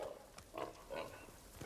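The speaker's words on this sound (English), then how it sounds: "No, some boars." Wild boar in the video game Ghost of Tsushima give a few low, close grunts at an uneven rhythm, moderately loud over a quiet background.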